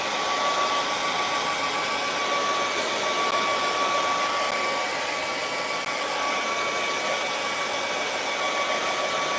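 A hair dryer drying black paint on a city skyline painting blows with a steady, even whirring hiss and a faint high whine, continuous and unchanging from start to finish.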